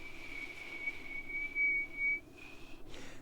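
A person whistles in imitation of an almost boiling kettle, a thin, steady high tone held for nearly three seconds at modest volume over light background noise.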